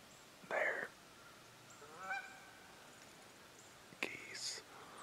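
Geese honk in a few loud, nasal bursts, one early and a couple near the end, separated by quieter stretches with faint murmuring.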